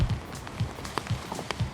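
Rain pattering on a tarp stretched over a simple improvised frame shelter, close and steady with irregular drop taps and soft low thuds, no voices.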